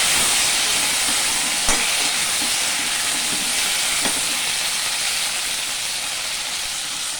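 Spices and vegetables fry in a pan, with bay leaf, potato and onion in the mix, giving a steady, close hiss and sizzle that runs unbroken throughout, with a couple of faint clicks and no talking.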